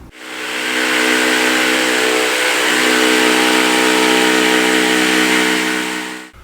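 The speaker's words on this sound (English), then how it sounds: "I'm going to cut it out again on my jigsaw" A jigsaw cuts curved pieces of wood for bent laminated table rails, giving one loud, continuous high buzzing whine that holds steady for several seconds before cutting off abruptly.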